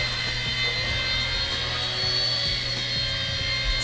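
A Blade 70 S scale RC helicopter flying fast indoors, its steady high-pitched rotor and motor whine holding close and loud with a constant low thrum underneath, no talking.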